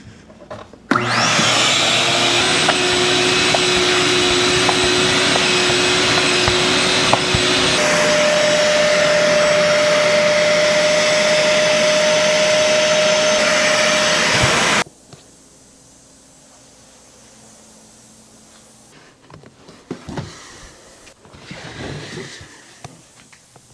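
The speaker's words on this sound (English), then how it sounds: "So I have my carpet cleaner over here and a vacuum. Let's get these floor mats cleaned up." A vacuum cleaner whines loudly and steadily while car floor mats for a Legacy wagon are cleaned, its pitch shifting partway through, then cuts off abruptly and leaves faint handling noises.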